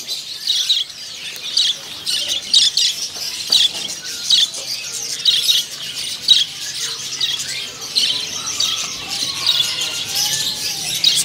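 Many small birds squawk, chirp and tweet nonstop at a bird seller's kiosk where prinias are kept for sale, a dense, bright chorus of overlapping calls close by, with no talk over it.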